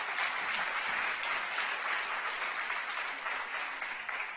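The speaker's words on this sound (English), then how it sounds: "you guys all clap" An audience at a book talk breaks into steady, dense applause that holds at an even level throughout, with no voices over it.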